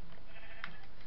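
Sheep bleating in the Minecraft video game, a single short game-sound bleat midway through a brief, otherwise quiet moment with no talk.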